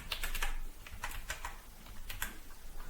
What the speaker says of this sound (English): here you can type the username that you created at the start for this, and then the password that you typed in